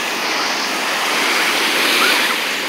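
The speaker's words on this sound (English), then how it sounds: "Bigger waves." Ocean waves break on a beach in a loud, close, continuous wash of surf that swells slightly toward the middle. Wind buffets the microphone and no voices are heard.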